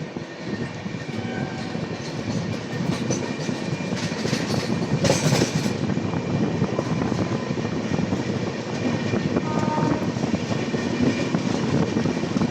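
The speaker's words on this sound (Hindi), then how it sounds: "एक खूबसूरत सा कर्व लेता हुआ जो हमारी ट्रेन जो है दूर की तरफ बढ़ चुका है।" Passenger train 15231 Barauni–Gondia taking a curve on a hilly ghat section, a continuous moderately loud rolling rumble with faint wheel clatter, heard without any voices.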